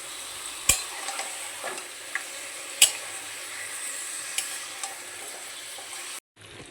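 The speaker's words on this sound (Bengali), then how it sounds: "এর মধ্যে দিয়ে দেবো ম্যারিনেট করে রাখা মাটনটা। ভালো করে মিশিয়ে নেব।" Mutton marinated in sour yogurt hisses as it fries in a pan, with a spoon stirring and mixing it. A few crisp clinks cut through the steady sizzle, which stops abruptly near the end.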